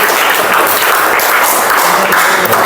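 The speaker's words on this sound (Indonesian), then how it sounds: "Berikan aplaus untuk kelompok 2." A classroom group gives loud, dense applause for a student group after its presentation, steady clapping filling the room without a break.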